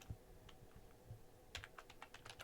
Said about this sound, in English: So I'm going to type in